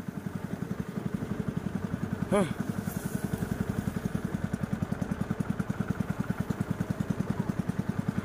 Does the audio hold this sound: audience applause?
no